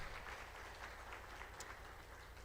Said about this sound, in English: Ladies and gentlemen, let's give a round of applause for Dr. Kiama.